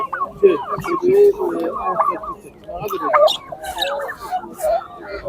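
Chickens and roosters cluck and call in busy overlapping bursts, with rooster-like and gobbling sounds close by amid a crowded poultry market in Sabunchu, Baku.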